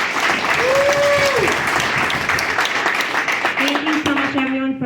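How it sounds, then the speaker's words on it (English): A crowd at an evening event claps loudly and continuously, close and dense, while a voice briefly speaks over the applause near the start and again toward the end. "Let's give him a round of applause."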